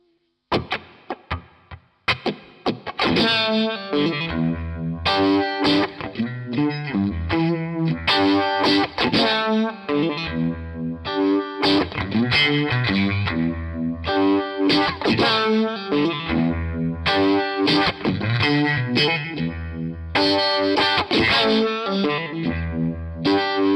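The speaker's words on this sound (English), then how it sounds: "if this is the sound you're after, chorus mode is where you should start" An electric guitar runs through a Behringer Vibe 69 Univibe effect pedal in chorus mode, a few tentative notes and then about twenty seconds of dense, distorted chords and riffs with a swirling, pulsing shimmer, loud and close.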